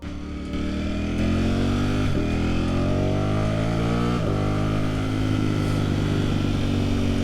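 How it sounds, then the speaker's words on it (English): A 2024 Ducati Streetfighter V4 motorcycle pulls away and accelerates, its engine note rising steadily through two gear changes, loud and close with no talking. "let's take the Streetfighter V4 for a ride"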